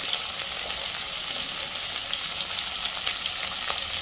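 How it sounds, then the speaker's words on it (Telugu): Green chillies and onion hit hot oil already holding cumin and mustard seeds, giving a dense, unbroken sizzle with faint stirring ticks, loud and near, with no one speaking. "ఇప్పుడు పచ్చిమిర్చి, ఉల్లిగడ్డ, పచ్చిమిర్చి తర్వాత వెంటనే ఉల్లిగడ్డ వేసేయాలి."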